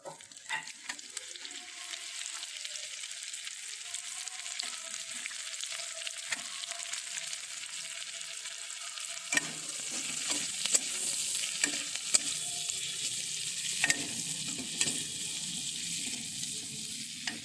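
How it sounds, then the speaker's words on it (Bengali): Chopped onions fry in hot oil with tempering spices in a home kitchen pan, giving a steady close sizzle broken by scraping stirs, growing fuller and busier about halfway through. "পেঁয়াজটাকে ভাজবো।"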